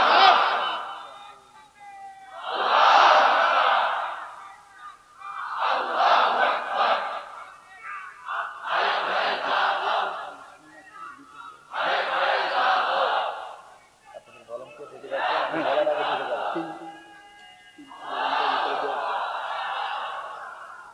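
A large crowd at a Bangla waz mahfil shouts the takbir in unison, about seven loud chanted bursts spaced roughly three seconds apart, each swelling and fading before the next.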